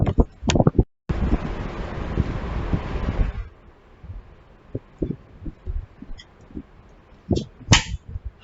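Strong gusty wind on the Atlantic City Boardwalk buffets the microphone in loud roaring bursts, then drops to quieter rumbles and scattered thumps near the end.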